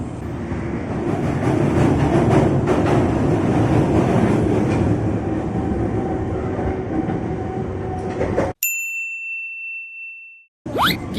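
A twelve-car KRL commuter train running from Depok toward Jatinegara rumbles loudly and steadily with rail clatter, then cuts to near silence broken by bright station chime tones before the rumble briefly returns.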